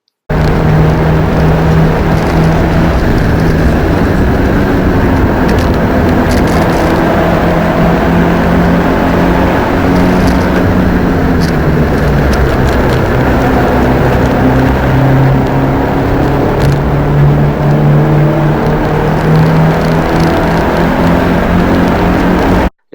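A Subaru Legacy Wagon engine drones loud and steady through fast laps at High Plains Raceway, with a sustained in-car hum whose pitch rises and falls gently as the car moves through the gears, no talk.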